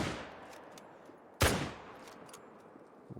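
A single loud, close .303 rifle shot cracks out in a deer-hunting video game at Layton Lakes, then decays into a rolling echo over quiet outdoor ambience.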